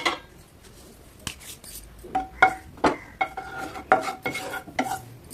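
Ghee being stirred in a kadai, with repeated metal scrapes and clinks of a spoon against the pan over a faint background, irregular and close.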